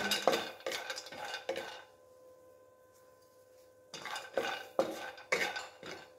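Cashews tumbling and being stirred in a pan for a homemade energy bar, with clattering scrapes of a spoon against metal in two busy bursts around a quiet gap, close and fairly loud.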